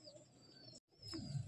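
An Andhra pigeon coos softly in a loft, with low throaty coos near the end under faint background hiss and a brief silent gap.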